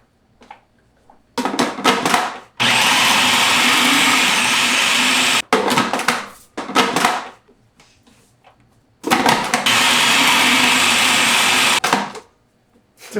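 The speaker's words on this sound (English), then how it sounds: "Pulse it a few times until the mixture kind of looks like ground meat." A food processor chops a sun-dried tomato and chickpea burger mixture in loud whirring bursts: a short pulse, a long run, a brief pulse, then another long run, with quiet gaps between.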